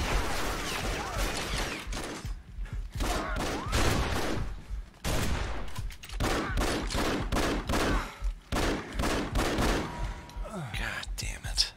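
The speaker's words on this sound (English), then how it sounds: "aim the gun and fire it" Gunfire in the game Afterfall Insanity, rapid bursts of shots in several volleys separated by short gaps, fairly faint and mixed with speech.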